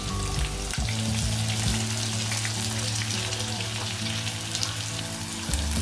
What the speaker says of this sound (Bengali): পেঁয়াজটাকে তেলে লাল করে ভেজে নিব।